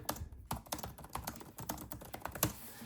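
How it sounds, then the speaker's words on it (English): Fingers tap rapidly on a Lenovo IdeaPad Slim 5i laptop keyboard, with soft irregular key clicks close by and nothing else audible. "Keyboard's excellent. It's your Lenovo standard keyboard."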